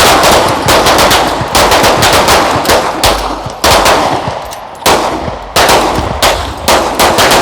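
Pistol fire on an outdoor shooting range during a tactical pistol course in Dover, Tennessee, loud and close, with rapid strings of shots in quick bursts, several volleys with short pauses between them.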